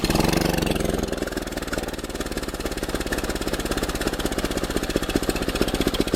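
A DIY wood gas generator engine runs hard at full throttle, a loud, steady rhythmic chugging with a fast, even pulse that holds strong throughout, close to the listener with no talk over it.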